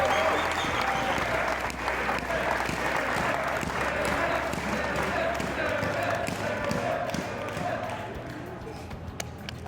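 Sustained crowd applause for a graduating Keyano Huskies men's basketball player, loud and steady throughout with scattered voices and cheers mixed in.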